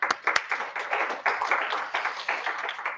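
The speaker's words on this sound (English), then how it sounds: "Let's give him a round of applause." Audience applause for a guest speaker at a tech meetup hacknight, a steady wash of many hands clapping that fills the room for the whole stretch, with a few sharper claps near the start.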